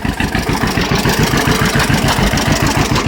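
A two-cylinder tractor engine idles steadily up close, its low, loping chug pulsing in an even rhythm with no pauses.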